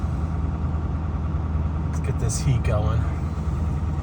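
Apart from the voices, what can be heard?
diesel truck engine at high idle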